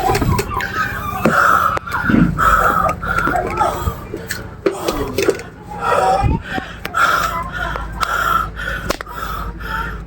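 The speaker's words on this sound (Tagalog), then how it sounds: "Hinihingal ako." Heavy, gasping breaths after a workout, loud and close, coming in repeated ragged pants and wheezes across the whole stretch with brief pauses between.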